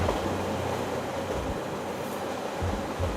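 A train rumbles past in the video game Cipher Zero, a steady low broadband roar with a washing, surf-like texture that holds at moderate level throughout with no talk over it.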